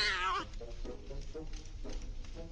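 A wild cat yowls loudly in a mobile game, Scary Stranger 3D, with a drawn-out meow at the start followed by quieter, rising cries and game sounds.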